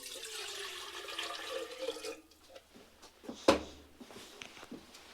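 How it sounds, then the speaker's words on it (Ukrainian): About a litre of water is poured from a kettle-side container into a cooled kettle during a portable gas stove test, giving a close, splashing pour for roughly two seconds followed by a few hard clunks and small knocks. "Також літра води, виливаємо її сюди."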